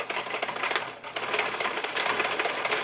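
Sewing machine running steadily and fairly loud as it back stitches the edge of a homemade S Pen holder, with a brief dip in speed partway through.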